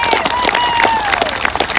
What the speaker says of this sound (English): even bigger round of applause for the last group there